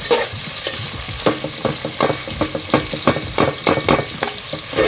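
About 150 grams of salted onions frying and being stirred in a pan for an Andhra-style prawn curry, a bright continuous sizzle with rapid scraping and tapping stir strokes, close and fairly loud.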